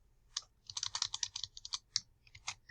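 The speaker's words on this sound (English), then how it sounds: "we're going to type in column chart" Typing on a computer keyboard, a quick irregular run of light key clicks, close and quiet with no talk.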